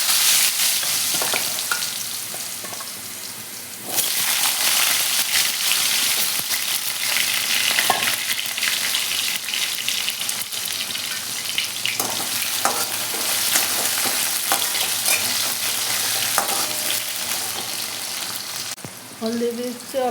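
Cut potatoes sizzle and fry in a pan with hot oil, a steady loud crackling hiss that jumps in intensity after a few seconds and continues with occasional stirring clatter throughout.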